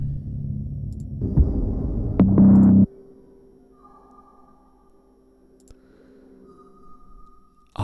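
A deep, droning Victorian pump organ tone swells loudly, then cuts off and leaves a long, ringing reverberant wash of sustained pitches fading slowly.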